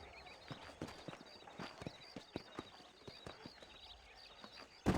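Hooves clip-clop at a walking pace in the Red Dead Redemption video game, a steady string of fairly faint, evenly spaced hoof strikes over quiet ambience, with a sharp louder hit at the very end.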